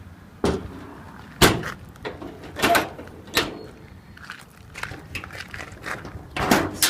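Compartment doors on the utility bed of a 2005 Ford F350 diesel pickup swing open in a series of separate metallic clunks and latches, close by, with quiet pauses between them.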